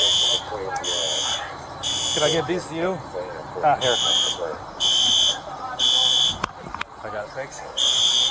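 A loud, regular alarm beeping in repeated bursts roughly every second, with people talking between and over the beeps.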